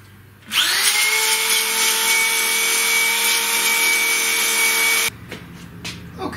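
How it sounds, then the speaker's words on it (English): A power deburring tool works the edges of freshly drilled holes in a wooden CNC router gantry part, giving a loud, steady whirring grind of about four and a half seconds that starts and stops abruptly. "after drilling, it's necessary to deburr all the holes"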